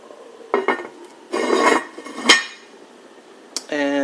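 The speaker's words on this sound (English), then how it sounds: "now I'm going to go ahead on and put my top on it" A lid set onto a pot of New Orleans red beans, giving a few metallic clanks and clinks of cookware close by, followed by a brief tonal ring near the end.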